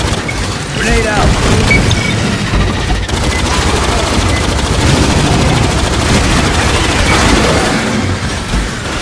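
Grenade blast and heavy gunfire from the Aliens: Fireteam Elite 2 video game, a loud continuous barrage of rapid shots and booms running throughout, with a voice calling out briefly near the start.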